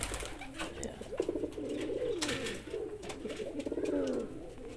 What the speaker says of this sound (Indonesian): Ini sahabat merpati.